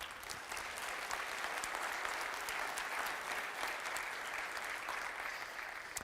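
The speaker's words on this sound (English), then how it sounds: "Let's clap it up for him" An audience of agents claps for a man introduced as the speaker's father, continuous full applause that stays level and sustained from start to finish with no talking over it.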